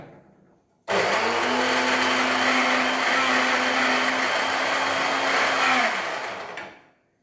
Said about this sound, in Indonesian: Ya, bumbu-bumbunya kita blender ya.